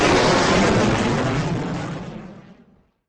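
A loud, dense rumbling blast of fireworks explosions in Israel, broad and roaring from the start, then trailing off over about three seconds into silence.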